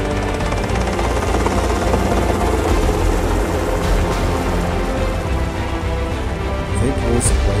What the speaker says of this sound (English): A helicopter, flying low above the ocean, has nearly collided with a drone capturing local beautiful sights.